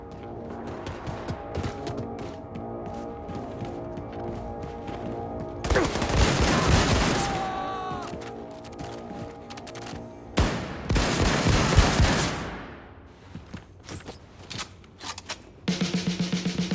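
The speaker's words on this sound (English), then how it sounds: "Blazkowicz, hop on the nuclear cannon and fire it to maximum distance" In Wolfenstein 2: The New Colossus, a nuclear cannon fires at maximum distance with two huge, roaring blasts a few seconds apart that rumble and fade, layered over a clanking, mechanical game soundscape.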